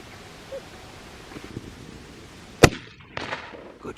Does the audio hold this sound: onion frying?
no